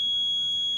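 A Simrad ECDIS navigation alarm sounds as one continuous high-pitched electronic tone, steady and loud through the whole brief moment, with no voices.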